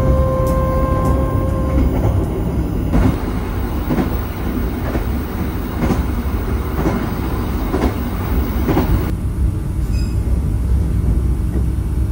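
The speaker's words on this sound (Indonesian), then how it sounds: "Kereta api Bangunkarta sudah tiba di stasiun Kutoarjo" The Bangunkarta passenger train rumbles loudly and steadily, with faint clickety-clack, a high electronic whine, and brief tones near the end as it pulls into Kutoarjo station, Indonesia.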